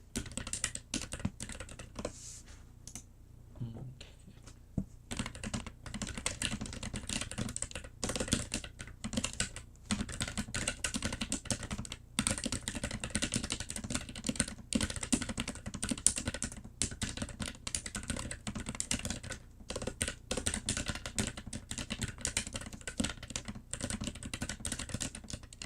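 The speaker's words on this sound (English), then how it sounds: "Oh, I love this keyboard so much." Steady, fast typing on a computer keyboard, a dense run of close, crisp key clicks with brief pauses, continuing alone for about 26 seconds.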